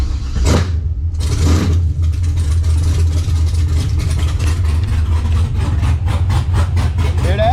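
A GM LS V8 set up with an ACES Jackpot fuel injection system cranks and catches, then settles into a loud, steady, rumbling idle heard close up.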